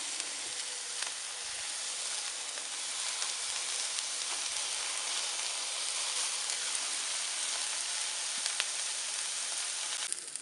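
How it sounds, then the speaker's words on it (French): Chicken and soy skewers sizzle steadily on a hot plancha, a broad, even frying hiss that carries on without a break, with a few faint crackles and no talking. "on retourne nos brochettes pour qu'elles cuisent sur toute leur face"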